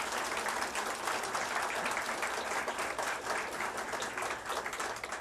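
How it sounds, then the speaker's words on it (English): An audience claps steadily and fairly evenly at a city council candidates forum in Lompoc, a dense patter of hands that keeps going without a break. "So now you can applaud, okay?"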